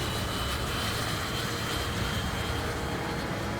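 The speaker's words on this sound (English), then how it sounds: "Hawk training aircraft. Yep. Plane of the Red Arrows" Roaring jet engine of a Hawk training aircraft, the Red Arrows plane, in the Ace Combat 5 video game. It sounds like a steady, loud, broadband drone that runs unbroken throughout, with no speech.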